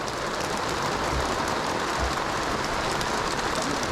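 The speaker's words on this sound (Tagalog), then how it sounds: "ang lakas ng ulan" A dense, constant hiss of heavy rain pouring down, with a couple of low thumps early on and no talking.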